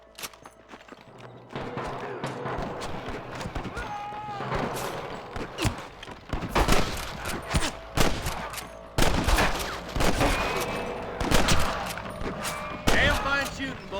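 Scattered gunshots crack repeatedly in a Red Dead Redemption shootout, irregular and overlapping, some near and sharp, others more distant, with voices calling out between them.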